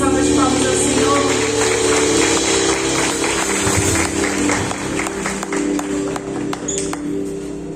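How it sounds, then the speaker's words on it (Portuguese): Church congregation applauding during a charismatic worship service, steady crackling clapping spread through the room over sustained music and organ-like tones, continuing throughout. "você pode dar uma salva de palmas ao Senhor"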